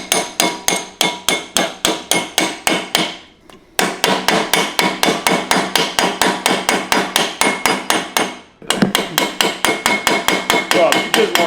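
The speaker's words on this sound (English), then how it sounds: "the pin that holds the brake pads in, which is down here, is stuck. And we've been hitting it hard and it won't come out." A hammer pounds on a stuck brake pad retaining pin of a Porsche 911 in rapid, loud metallic strikes, delivered in steady bursts with two brief pauses between runs.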